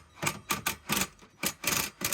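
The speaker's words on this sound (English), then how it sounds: "now we're going to be tightening them up with this cordless impact" A cordless impact wrench tightens trailer hitch bolts on a 2018-2023 Subaru Crosstrek, hammering in a rapid series of short, sharp bursts with brief gaps, close and fairly loud.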